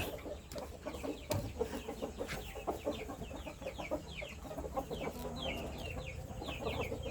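Burmese chickens clucking in a pen on a farm, a busy overlapping chorus of clucks and short calls, some near and some farther off, with a steady outdoor background.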